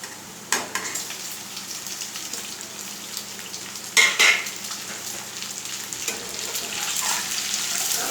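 Eggs frying in a pan and being stirred slowly, a steady sizzle broken by occasional scrapes and clinks of a utensil against the pan, close, with no talking.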